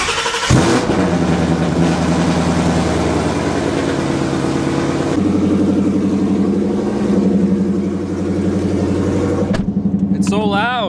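A Whipple-supercharged Ford Mustang engine cold-starts loudly, settling into a rough, throbbing idle with blower whine, then revving; a voice briefly speaks near the end.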